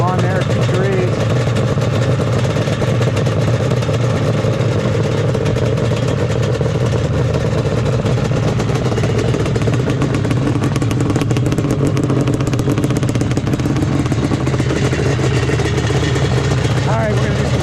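Yamaha Banshee two-stroke ATVs in the Glamis sand dunes, engines droning and revving loud and close without a break, a rough buzzing roar that fills the whole stretch.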